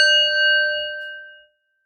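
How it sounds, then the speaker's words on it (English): A single meditation bell struck once, a clear ringing tone with bright overtones that rings out cleanly and decays over about a second and a half, alone in silence. "We'll begin with a bell."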